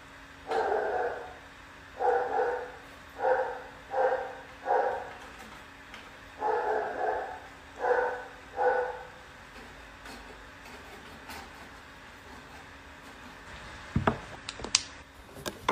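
A dog barks in repeated short bursts, about eight clustered barks spaced roughly evenly, moderately loud and close, followed by quiet and a few sharp knocks near the end.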